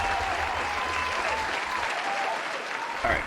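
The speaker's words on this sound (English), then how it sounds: "that clap track is too long" A canned applause track of steady clapping fills the whole stretch at an even, moderate level with no voices over it, swelling slightly near the end.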